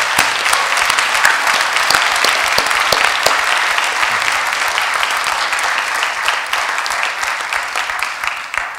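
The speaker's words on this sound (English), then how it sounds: "Now you can clap." A town meeting audience applauds a departing Select Board member with dense, steady clapping that carries on for several seconds at full strength before easing slightly.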